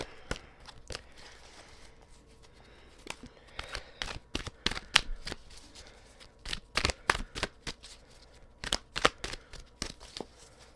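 Tarot cards pulled one after another from the deck, producing a series of quiet, crisp slaps and flicks close by, irregular at first and then quicker, with soft shuffling between.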